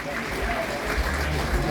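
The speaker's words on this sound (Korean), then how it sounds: "큰 박수로 맞이해 주시기 바랍니다." A crowd at a political party event applauds to welcome a speaker to the podium, with steady, dense clapping and a low murmuring rumble underneath.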